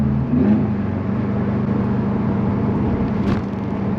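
Cars, including a Mazda 3 and an Audi SUV, accelerate along a mountain road in traffic, a steady close engine drone holding evenly throughout with no voices.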